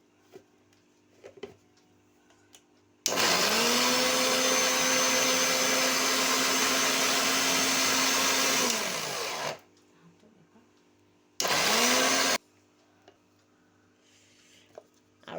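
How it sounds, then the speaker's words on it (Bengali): An electric mixer grinder blends turmeric and neem with water in one long, loud, whining run, then a quick second burst after a pause, with quiet moments on either side. "এবার একটু মিক্সিতে ব্লেন্ড করে নিই"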